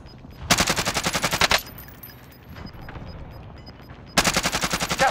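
Automatic gunfire from an online Call of Duty: Modern Warfare match rings out in two loud, rapid bursts, one at the start and one near the end, with a quieter stretch of game ambience between them.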